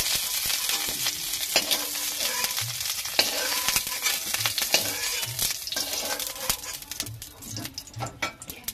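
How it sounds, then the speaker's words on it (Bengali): Tilapia fish pieces frying in hot oil in a pan, a steady close crackling sizzle with occasional stirring and utensil scrapes throughout, no talking. "আমার হালকা হালকা করে লাল লাল করে ভাজা হয়ে গেছে"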